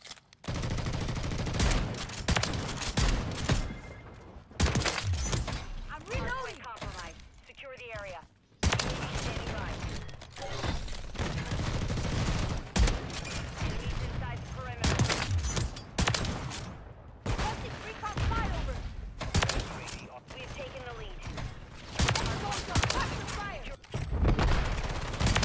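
Rapid gunfire from the Reclaimer 18 shotgun in Call of Duty: Modern Warfare III multiplayer, dense bursts of shots running through nearly the whole stretch with a few short gaps, loud and close, with some game speech mixed in.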